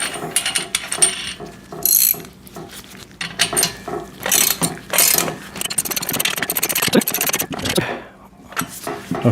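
A big nut being tightened on the bottom of a VEVOR pec deck and rear delt home gym machine, rapid ratchet clicking in bursts with brief pauses and metallic clanks, close and loud.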